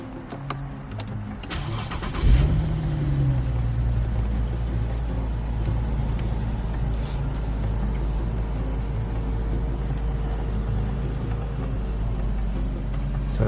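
Infiniti QX70 engine just after starting, following a radiator leak repair, a steady low idle rumble that swells as it catches, then settles into a constant drone with faint background noise, no talking.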